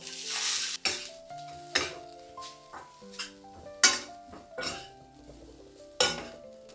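Okra being fried and stirred in a pan for a crispy South Indian bendi fry, with steady sizzling broken by repeated loud clinks and scrapes of a utensil against the pan, close and without talk.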